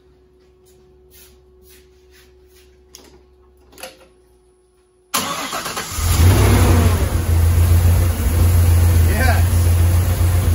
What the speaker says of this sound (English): The very first startup on this engine in the Defender 90.